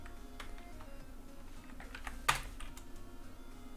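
Quick, light keystrokes on a computer keyboard as a name is entered, close and soft, with one sharper key press near the middle and no talking.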